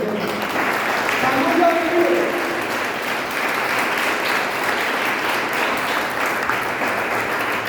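A church congregation applauds the Lord in a sustained, dense clapping that fills the room steadily, with a voice briefly speaking over it early on.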